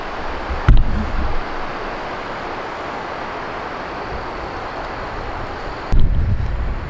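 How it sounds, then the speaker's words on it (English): Steady wind rush on a gusty day among trees outdoors, a continuous broadband wash with two brief louder gusts or buffets at the start and near the end. "It's a pretty windy day."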